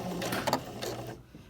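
A sewing machine back stitches a mock fly zipper with a short, fast mechanical run of needle strokes that stops abruptly after about a second.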